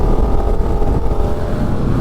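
A Yamaha MT07 motorcycle engine drones loud and close under held throttle during a wheelie, a dense steady roar with no pauses.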